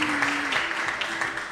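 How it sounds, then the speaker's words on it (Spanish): Dense, sustained audience applause for a candidate at a municipal candidacy registration event in Baraya, a continuous wash of clapping from a crowd. "un fuerte aplauso para la candidata"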